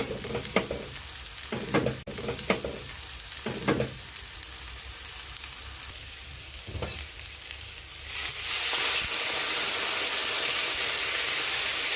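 Sardine curry masala frying in a pan, giving a steady close sizzle with scattered stirring scrapes and clacks, swelling into a louder, denser hiss toward the end.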